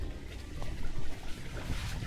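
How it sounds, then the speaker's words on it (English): A small babbling brook with a miniature waterfall in a Japanese-style garden, continuous gentle trickling and splashing water close by, with no voices. "Oh, it's like a babbling brook."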